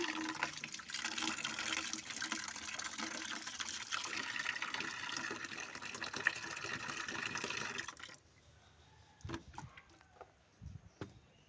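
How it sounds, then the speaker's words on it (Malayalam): Water gushes steadily from a tap for several seconds, then cuts off, leaving a few faint knocks and drips. "പിന്നെ കുറച്ച് വെള്ളം ഞാൻ തുറന്നു വിടുന്നു"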